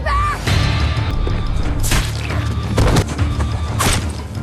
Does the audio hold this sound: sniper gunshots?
yes